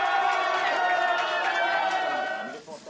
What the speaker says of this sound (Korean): 환호의 순간